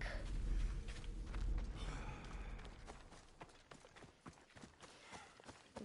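A horse's hooves clip-clop in Assassin's Creed Odyssey, a run of fairly faint, evenly paced hoof strikes beneath a soft rushing ambience, with a breathy snort or sigh early on.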